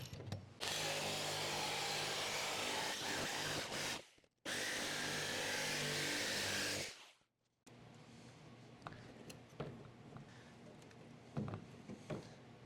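A power drill bores a starter hole through a van roof for a Ventline powered roof vent. It makes two loud, steady whirring runs of several seconds each, then stops, leaving quieter workshop clatter.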